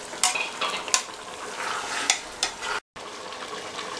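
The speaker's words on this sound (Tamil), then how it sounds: "மட்டன் போட்டாச்சு, நல்லா இந்த கறி உருண்டு வர அளவுக்கு நல்லா வதக்கணும்" Mutton fries in a pan while being stirred, with a steady sizzle broken by sharp scraping strokes of a spatula, close and clear, with a brief drop to silence near the end.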